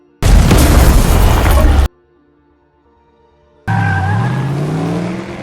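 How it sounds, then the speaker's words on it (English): Bomb detonation in a film scene as a car flees: a loud roaring blast cuts off into near silence, then an engine revs and tires squeal loudly as the car speeds away. "fled in his car just in time before the bomb detonated"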